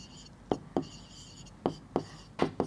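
A pen or pencil writes numbers by hand on paper in a maths lesson, giving several short, close scratchy strokes in an irregular rhythm with quiet pauses between them.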